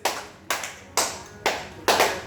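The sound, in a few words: clapping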